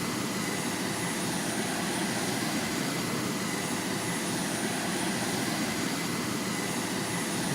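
Enemy Razor Bill aircraft inbound in the video game Command Carrier 2, a steady, broad jet-engine roar that holds at an even level from start to finish with no voices over it.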